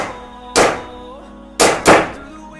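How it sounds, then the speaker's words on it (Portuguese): Three sharp, close shots from a chrome WE 1911 gas blowback airsoft pistol: one single thunk, a pause, then two quick ones in succession, each with a brief snappy decay. "vou dar alguns disparos aqui para vocês acompanharem agora essa Airsoft disparando"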